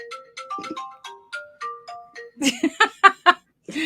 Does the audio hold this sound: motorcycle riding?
no